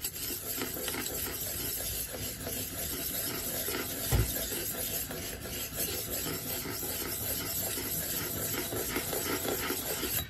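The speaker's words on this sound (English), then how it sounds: "you start with your lowest grit and you don't stop until you feel a burr" A Rinaldi Tomahawk axe is sharpened on a grit stone with steady, close rasping strokes that scrape back and forth continuously and softly, with one brief knock in the middle and no talk.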